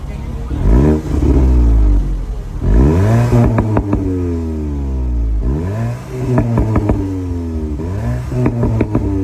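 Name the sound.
Volkswagen Golf GTI engine revving, exhaust sound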